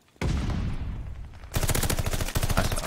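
The Automaton firing in the video game Call of Duty: Vanguard: loud, sustained bursts of rapid automatic gunfire that roll on continuously, then a second, sharper stretch of fast repeated shots.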